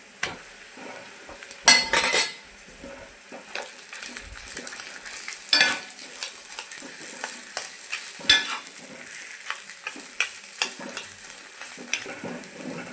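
Potatoes tossed into a pan of frying onion and green chili, sizzling steadily with intermittent spoon stirring and metal clinks against the pan, close and continuous.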